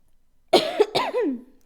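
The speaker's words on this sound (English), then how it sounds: "I have a cough that never goes away." A person coughs close to the microphone, a few quick harsh coughs followed by a voiced, throaty trailing sound, with silence before and after.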